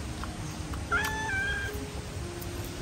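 A cat gives one short, clear meow about a second in, heard alone against a quiet indoor room background.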